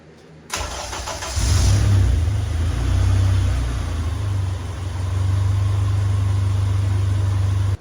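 K-swapped Mini Cooper engine cranks and fires, then settles into a loud steady idle with a couple of revving swells, close by and continuous.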